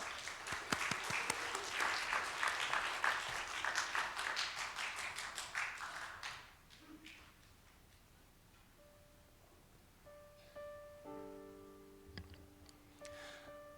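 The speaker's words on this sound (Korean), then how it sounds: "큰 박수를 부탁드립니다" A large crowd at a Friday church service claps steadily for several seconds, then the applause fades out, leaving quiet room tone with a few faint tones and taps.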